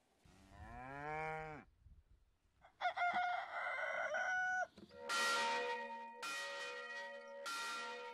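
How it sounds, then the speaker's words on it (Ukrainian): Farmyard sounds of a French village: a cow moos, a rooster crows clearly, then a church bell rings in several loud resonant strikes with long ringing decay, all close and distinct. "мукання корів, кукурікання півнів і калатання дзвона повинні отримати державний захист"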